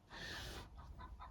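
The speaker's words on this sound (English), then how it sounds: "That's one of our hens laying already again." A laying hen clucks and squawks nearby, a drawn-out call followed by a few shorter clucks, fairly faint and alone.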